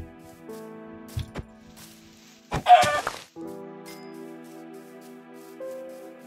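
Minecraft chicken clucking in brief bursts, a couple of short clucks early and a louder flurry midway, over quiet game ambience with steady tonal background music.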